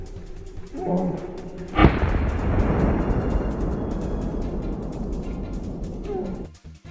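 A single sharp rifle gunshot cracks out in a forest during a boar hunt on a farm, then rolls into a long, loud, gradually fading echo that lasts several seconds before cutting off.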